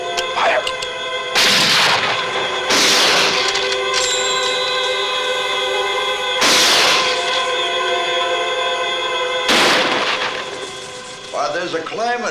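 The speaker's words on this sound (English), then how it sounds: "Stand by to fire." Rifle shots fired at a target in a 1973 film, four loud, sharp cracks spaced a few seconds apart over a steady background drone, each with a brief ringing tail.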